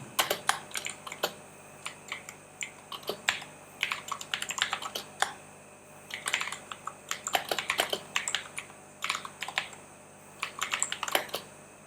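A computer keyboard is typed on in bursts of quick, close clicking keystrokes, with short pauses between runs and no speech.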